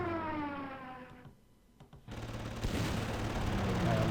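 In the wartime strategy game Panzer Corps, an air bombing attack plays out as a burst of rapid gunfire and explosions with a siren-like whine, a brief lull, then a dense, loud barrage of blasts and crackling fire.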